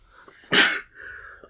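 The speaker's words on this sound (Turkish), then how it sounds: "Hapşırığımı duydunuz." One loud, close sneeze bursts out sharply and is followed by quiet breathing, with no talk, in a workshop where a compressor and screws are in use.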